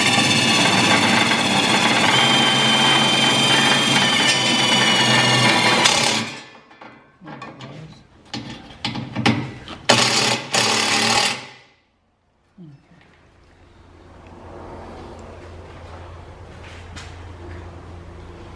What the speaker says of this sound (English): I'm putting another screw in.